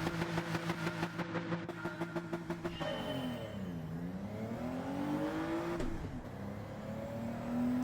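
A car engine in Gran Turismo 7, traction control off, revs hard in a loud pulsing burst off the line, then climbs in a steady rising whine, dips briefly at a gear change and pulls up again.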